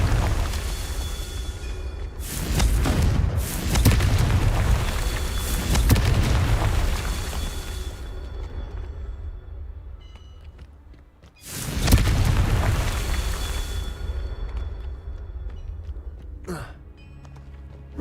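Fiery Confringo spell blasts in the video game Hogwarts Legacy: two loud, deep booming explosions several seconds apart, each rumbling on and fading slowly, with a faint sharp crackle near the end.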